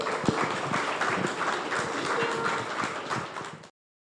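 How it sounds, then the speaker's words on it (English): A studio audience applauds a podcast guest, Rissa Kilar. The clapping is steady and fairly close for about three and a half seconds, then cuts off abruptly. "Big round of applause for Rissa."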